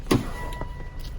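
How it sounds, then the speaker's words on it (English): A Volvo's ignition key is cycled on and off to prime fuel pressure, giving a short, fairly loud mechanical click and whir near the start, then faint ticks against a quiet cabin hum. "one of the things I do is just kind of cycle the key to get fuel pressure in the system"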